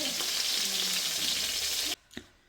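Mustard oil sizzles and crackles loudly in a hot pan, a steady dense frying hiss that cuts off abruptly, followed by a brief clink and faint hiss.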